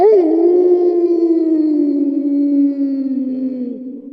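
A dog howls in one long, loud, sustained wail that slowly falls in pitch and fades slightly at the end, close and alone.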